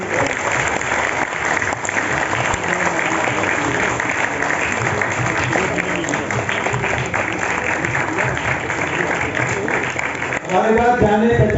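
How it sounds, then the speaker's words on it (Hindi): Audience applause at a book launch for a crime and investigation book, a sustained dense burst of clapping that fills the room before a voice begins speaking at the end. "जोर से तालियां बजाएं, तालियां रुकनी नहीं चाहिए।"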